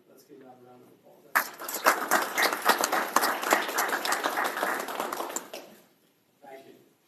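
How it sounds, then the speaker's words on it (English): The women at a town council meeting receive a round of applause, a burst of many hands clapping for several seconds before it fades out. Brief talk comes before and after the clapping. "let's give that a round of applause"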